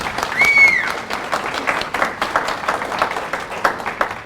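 Enthusiastic audience applause at an industrial maintenance residency graduation ceremony, dense overlapping hand claps that swell early then continue steadily, with a brief whistle near the start.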